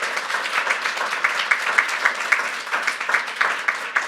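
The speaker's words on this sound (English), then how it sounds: "So if we can give them a round of applause." Banquet audience claps in a moderate, steady round of applause, a dense patter of hands with some louder individual claps, continuing throughout.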